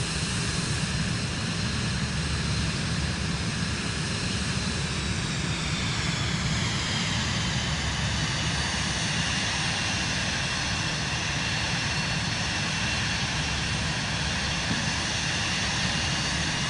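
An airplane's engines in the video game Flight Simulator 2024 hold a steady, droning roar with a rising whine, continuous and fairly close for the whole stretch, with no talking over it.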